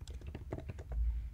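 Quick run of computer keyboard keystrokes as a title is typed, about a dozen close, crisp clicks in a fast uneven rhythm over a low steady hum, with no voices.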